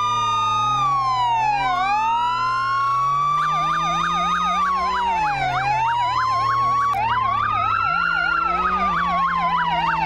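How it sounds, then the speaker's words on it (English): Loud electronic emergency vehicle sirens in the video game Flashing Lights wail and yelp continuously, sweeping up and down in pitch with rapid warbling stretches, several tones overlapping. "The sirens are pretty obnoxiously loud."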